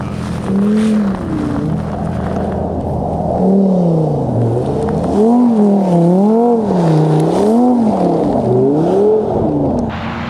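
Lamborghini supercars driving on ice in Canada, their loud engines droning close by and swelling and dipping in repeated waves as the drivers work the throttle, with no talk.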